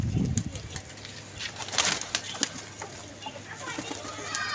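Pigeons from a pigeon club, birds that leave home in the morning, coo and flap their wings close by amid scattered wingbeats and clatter, with a steady low hum underneath.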